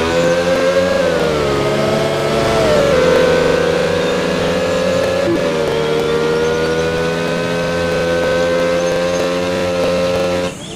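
A voice imitates a Formula One race car engine, a loud, continuous buzzing drone held for about ten seconds with a few pitch shifts and no break.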